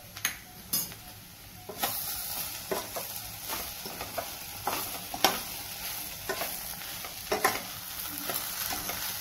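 Okra with peanut powder stir-fried in a pan, a steady sizzle broken by repeated scraping strokes of a spatula against the metal, close and fairly loud, with no talking.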